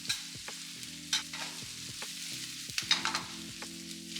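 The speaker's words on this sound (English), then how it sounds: "These are the aromatics and I'm going to saute this off until it's fragrant and just starting to brown." Aromatics sautéing in a pan for Jamaican brown stew fish: a steady, close sizzle with repeated stirring scrapes and clinks spread through the few seconds, no voices.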